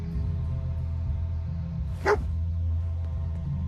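Dogmeat, the dog companion in Fallout 4, gives a single sharp bark midway over a steady low ambient hum.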